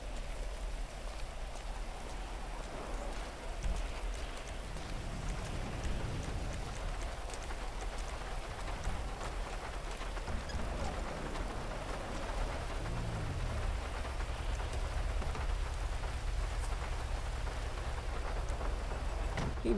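Steady rain falls in the GTA Online game world, a continuous soft hiss of drops with occasional low rumbles, faint and unbroken throughout with no talking.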